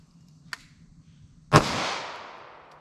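A single sharp gunshot from a Taurus G2C 9mm pistol loaded with 147 grain Gold Dot rounds cracks out loud and close, its echo trailing off over about a second, preceded by a faint click.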